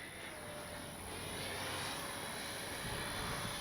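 An FMS P-51 Miss America radio-controlled model warbird climbs straight up, its electric motor and propeller giving a steady, distant drone that swells slightly as it goes.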